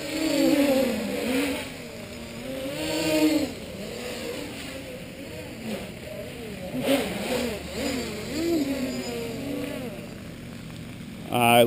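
Four-motor RC multicopter in flight, its motors whining and rising and falling in pitch as it manoeuvres, loud and fairly close, with someone talking over parts of it.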